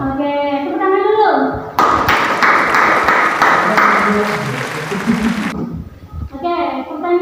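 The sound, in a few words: class clapping hands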